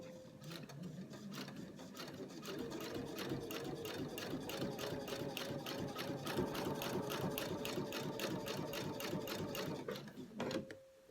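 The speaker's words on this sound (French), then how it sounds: "On fait la couture à peu près à 1/8 du bord ici." A sewing machine stitches seams along the edges of small pressed fabric pouches, running in a steady, fast mechanical rhythm for about ten seconds before stopping, close and alone.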